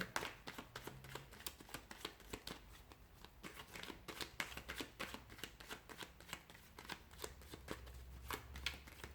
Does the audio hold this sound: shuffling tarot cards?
yes